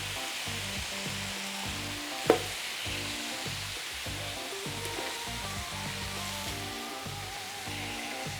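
A burger sizzling on a Ninja Sizzle XL Pro grill, a steady close hiss of frying fat under a low rhythmic hum, with one brief tap partway through.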